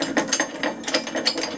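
A ratchet winds stepped bolts into a Hayter mower, giving a quick run of close, crisp clicking in short uneven bursts with nothing else heard.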